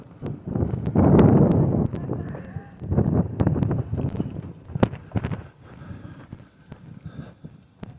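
Horses' hooves clip-clopping in uneven, close-up thuds, mixed with wind buffeting the microphone and rustling, the hoof beats growing sparser toward the end.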